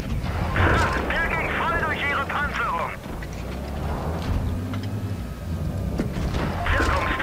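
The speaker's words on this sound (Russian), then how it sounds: "Он в тебя пушку гасанул." Tank cannon fire in the World of Tanks video game, with heavy booming shots and rumbling blasts over game noise, while people talk over it.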